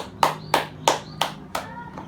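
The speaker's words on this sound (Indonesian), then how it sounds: "Yuk, semuanya kita berikan aplaus kepada Andin ya." Five sharp, evenly spaced hand claps ring out in a classroom, a small class applauding a student; the bursts are distinct rather than a dense roar, over a faint background hum.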